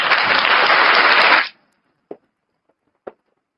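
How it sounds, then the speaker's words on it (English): A burst of applause fills the first second and a half, then cuts off into silence broken by two soft, separate knocks, heard in a home man-cave livestream setting. "We got to give you a round of applause too."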